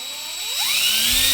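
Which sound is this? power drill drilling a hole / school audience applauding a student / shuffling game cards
power drill drilling a hole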